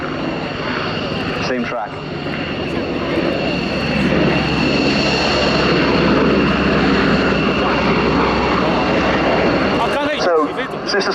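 Merlin Mark II helicopters flying at an airshow, a loud steady rotor and engine roar filling the whole stretch, with a commentator talking over it throughout.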